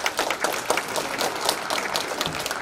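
An audience applauds in a church during a regional presbytery general assembly at Namhyun Church, a dense, steady patter of many hands clapping at moderate loudness throughout, with no voices.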